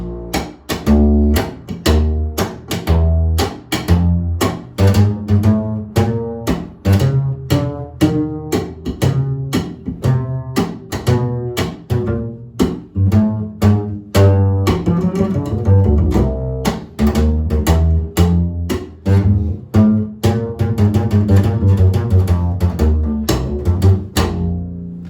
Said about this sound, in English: And so the slap style kind of goes like this.